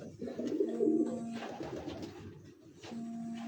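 Domestic pigeons on a rooftop coo in a low, throaty rolling call, repeated a few times at close range with no talk over it.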